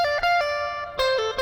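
Electric lead guitar plays a short repeated melodic phrase from a song intro, a handful of sustained picked notes with clear attacks, close and alone with no talking.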